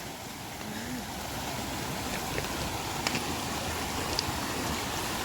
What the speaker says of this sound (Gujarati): આ ઝરણું જાય.